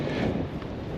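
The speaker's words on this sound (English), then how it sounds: "I don't know if you could hear Donna, the wind is blowing so hard" Strong wind blowing at a historic lakeside fort, a loud continuous roar buffeting the microphone.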